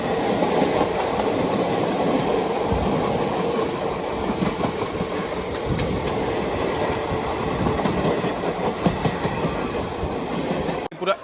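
A passenger train rumbles steadily into Ambala Cantt junction after a long delay, with continuous loud wheel clatter, rattling carriages and rail noise throughout.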